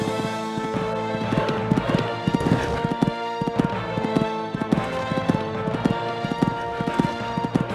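Rhythmic clip-clop of horse hooves galloping across a cross-country eventing course at amateur horse trials near Sydney, steady and fairly close, with an occasional faint whinny over a continuous background hum.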